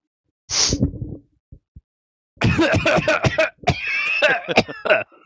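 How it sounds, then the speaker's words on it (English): A person coughs and clears their throat in several harsh, close bursts separated by brief pauses. "Go ahead and keep coughing."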